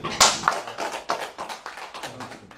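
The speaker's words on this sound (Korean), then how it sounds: "오늘 뭐 강연해 주신 저 주정호 교수님께 박수 한번" Audience at a seminar applauding the lecturing professor in brief, sparse claps, a few sharp hits fading into scattered softer taps.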